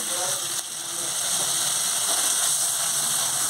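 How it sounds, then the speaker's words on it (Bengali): Poppy seed (posto) water poured into a hot pan with green chillies gives a loud, steady hiss and sizzle that holds for several seconds. "এবার আমি পোস্তর জলটা দিয়ে দেব"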